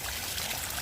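Water trickles and flows steadily in a small open cistern in an Andalucian town, a continuous close, fairly quiet splashing wash with no voices.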